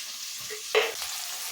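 Onion masala fries with turmeric powder in a pan for egg usli, a quiet, steady sizzle broken by one short scrape of stirring.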